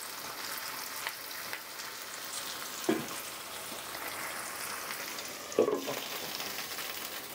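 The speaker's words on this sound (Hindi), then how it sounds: "गैस का फ्लेम बिल्कुल लो पे करके हम ढक के फ्राई करेंगे 4 से 5 मिनट" Potatoes and onions frying covered in a pan over a low gas flame, a soft steady sizzle with a couple of faint knocks or pops, quiet and close.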